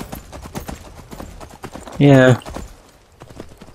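Horse hooves clip-clop at a steady trot in the Skyrim video game. A loud, brief horse whinny cuts in midway, and a voice speaks briefly.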